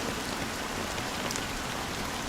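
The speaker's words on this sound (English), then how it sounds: "it's still raining" Steady rain falls in the video game Honkai Star Rail: a dense, even hiss of raindrops on surfaces, loud and continuous throughout, with no voices.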